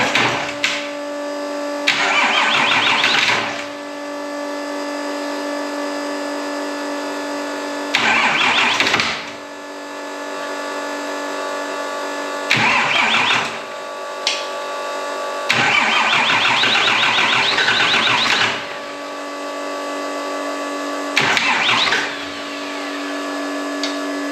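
A Cummins diesel engine swapped into a Ford truck being cranked repeatedly after four months of sitting, with loud starter grinding bursts over a steady running drone, close up with no talk.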